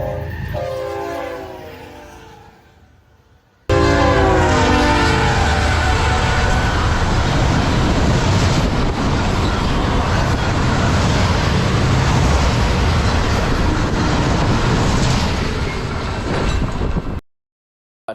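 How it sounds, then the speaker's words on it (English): An eastbound Autorack freight train roars past at about 70 mph, a loud, sustained rumble and clatter of rail cars that cuts in abruptly after a quieter opening and stops just as suddenly near the end. "an eastbound Autorack came flying through doing 70"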